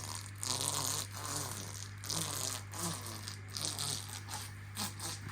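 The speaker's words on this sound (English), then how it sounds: "And it's the sound of the roller, isn't it?" A roller presses air bubbles out of a koi pond liner, giving repeated soft, rubbery squelching and crackling pulses over a steady low hum, fairly close and continuous for several seconds.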